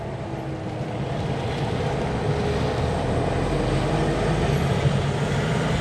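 A car's engine in first gear descends a mountain road, a steady low drone with broadband road and wind rumble that swells slightly over several seconds, with no talk over it.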